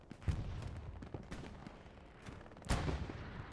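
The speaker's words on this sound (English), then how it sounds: "Delta Fox with that MG" Machine gun fire in the World War II shooter Hell Let Loose during a competitive 49 vs 49 match, with scattered bursts of gunshots, some near and sharp, others distant, against background battle noise.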